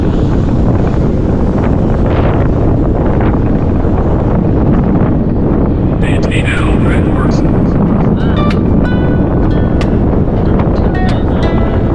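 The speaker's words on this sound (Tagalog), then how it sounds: "Oh, lakas ng hangin na ba? Malakas talaga dito ang hangin" Strong wind roars and buffets the microphone continuously, loud and close, with faint higher whistles and noises mixed in later.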